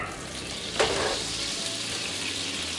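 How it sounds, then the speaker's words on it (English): Butter sizzles as it melts in a hot pan, about six tablespoons of it, with a sharp crackle flaring up near the start and then a steady frying hiss. "Let that butter start to melt."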